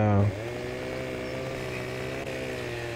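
Steady droning chainsaw engine from the video game Farming Simulator 15, felling trees, holding a constant pitch after a brief louder opening burst, loud and continuous throughout with no talk over it.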